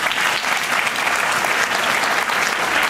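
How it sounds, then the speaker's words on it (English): An audience at a cultural talk applauds as a political scientist comes to the front, producing steady, dense clapping from a full room that holds at an even level for about three seconds. "You may always applaud when someone comes to the front."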